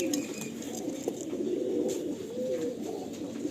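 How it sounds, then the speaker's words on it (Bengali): Breeder pigeons in a pigeon loft in Behala, Kabardanga, coo in low, rolling murmurs that overlap continuously, with a few faint higher chirps and no talking. "দেখুন এখানে কিছু পায়রা আছে"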